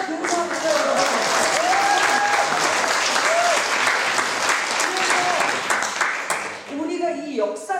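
An audience in a small parliamentary meeting room claps at a political talk show event, giving sustained, dense applause that fades slightly toward the end as a voice calls out over it.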